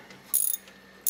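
Two short clicking bursts from a ratchet tightening the agitator of a Whirlpool Imperial Series II washing machine, close and crisp, separated by a brief pause.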